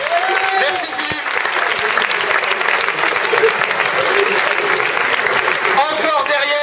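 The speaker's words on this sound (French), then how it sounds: "Un tonnerre d'applaudissements pour monsieur Fournier." Loud, sustained audience applause at a talent show, a thick continuous wash of clapping with a few faint whoops and voices mixed in.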